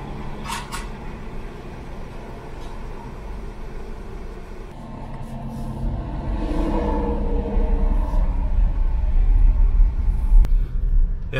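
A car rolls along the entrance road into a Florida campground near Lake Okeechobee, a low rumble of tires and engine building gradually louder toward the end, with a few brief knocks.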